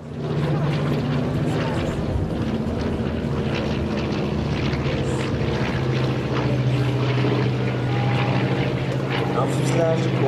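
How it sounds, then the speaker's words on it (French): A Nord Noratlas 2501 twin-boom transport plane makes a flyby at an air show in Hyères, its piston engines droning steadily and loudly throughout while a commentator talks over the roar. "tendre l'oreille et de vous ravir de ce vrombissement proposé par le Nord Atlas"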